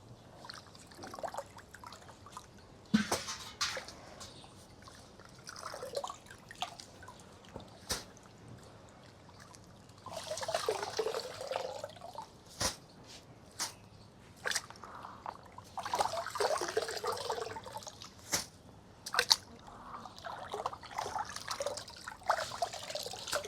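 Water trickles and splashes intermittently, draining from soaked finger millet through cloth in a basket, broken by sharp taps and knocks of handling.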